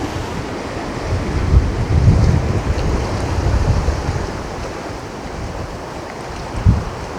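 Surf breaks on the beach at Natangco Island, Marinduque, a constant close rush of waves mixed with gusty wind noise on the microphone, with a few heavier surges and a sharp bump near the end.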